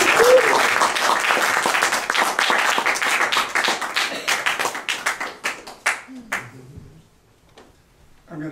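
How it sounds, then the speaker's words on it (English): Applause from a congregation at a birthday celebration service, loud and dense for about six seconds, then thinning into scattered claps and fading out near the end, with a voice briefly heard. "let's give a nice round of applause for Reverend Rudy Colombini"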